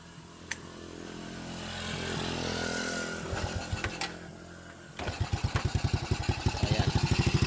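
A motorcycle engine with a freshly tuned carburetor sputters and roars through an uneven, rising rev, then settles into a steady, close, chugging idle with regular firing pulses.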